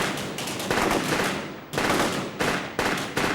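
Pistol shots on a police firing range crack out in a rapid volley, then three more spaced single shots follow, loud and close with no talking.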